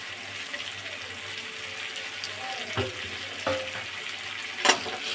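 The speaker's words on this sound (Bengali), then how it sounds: "দেখুন মাছের মাথা দিয়ে কষাবো। কাঁচা লঙ্কা দিয়ে দেবো।" Fish head fries with green chilli in a hot wok, a loud continuous sizzle with occasional stirring clatters and scrapes close by; no talking.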